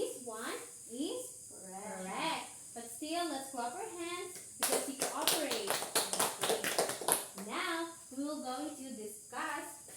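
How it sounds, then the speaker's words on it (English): Children clap hands in a classroom shapes lesson, a short burst of brisk claps lasting about two and a half seconds, with an adult talking before and after. "But still, let's clap our hands because we cooperate."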